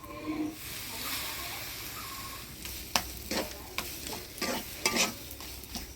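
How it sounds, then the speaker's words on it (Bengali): Taro leaf greens stirred in a pan with lemon juice, a steady sizzle running underneath as a spoon scrapes and turns them in a string of distinct close strokes, with a little faint talk early on. "এবারে এক থালি লেবুর রস দিয়ে নাড়াচাড়া করে নেব।"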